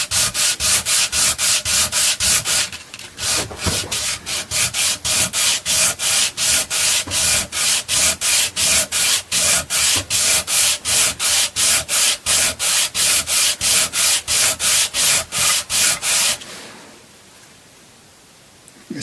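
Sandpaper is rubbed briskly back and forth over the body of a Chapman ML-2 guitar, a loud, close, rhythmic rasping of even strokes that runs on and then stops suddenly.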